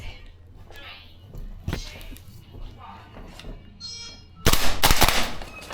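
Tokyo Marui AK gas blowback airsoft rifle (AKX) fired in an indoor CQB course: a loud burst of sharp rapid shots near the end, after quieter shuffling and faint movement.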